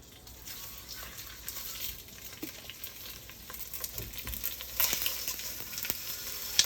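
Beef shank pieces browning in oil, a soft steady frying sizzle with scattered pops and crackles that grow a little louder toward the end, no talking.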